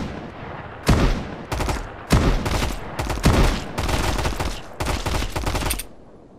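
Gunfire in a survival video game: several loud, close bursts of shots in quick succession, separated by brief pauses, with a faint tail after the last volley.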